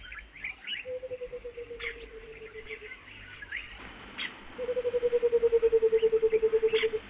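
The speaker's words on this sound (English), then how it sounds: "It's the white-browed cuckoo, usually called the bottle bird. That lovely liquid bubbling sound is often heard in the evening" A white-browed coucal, or bottle bird, gives its liquid bubbling call twice, a rapid run of evenly pulsed hollow notes that slowly drop in pitch. The second run is louder and closer, with faint chirps from other birds behind.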